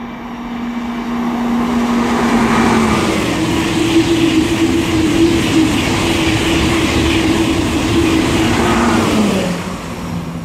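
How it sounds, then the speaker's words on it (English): A refurbished Eurostar e300 high-speed train on HS1 near Rainham rushes past nearby with a loud, sustained roar and a falling pitch, fading as it goes by. "sounds like an E300 ready to pass by for the Disneyland Paris train"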